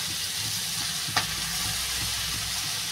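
Chopped spinach frying in a pan for a Bengali spinach dish, giving a steady, close sizzling hiss throughout with one brief utensil click partway through.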